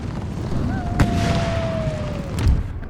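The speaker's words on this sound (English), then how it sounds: "that artillery battery is creaming me" Two heavy artillery booms from an Empire: Total War battle in Flanders, one near the start and another toward the end, over a steady battlefield rumble with a thin whistling tone in between.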